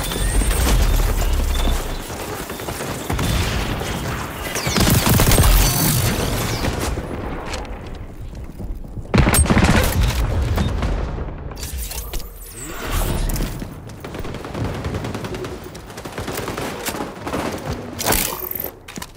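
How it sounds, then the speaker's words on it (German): Sticky grenade blasts and gunfire rattle through a match of the video game XDefiant, with loud bursts, sharp impacts and a rough crunching break near the middle, the action dense and continuous throughout with no talking. "Haftgranate wird eingesetzt."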